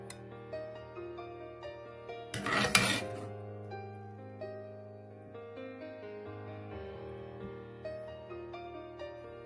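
Yogurt eggplant is spooned into a serving dish, a short clatter of spoon on dish rising briefly over quiet background music.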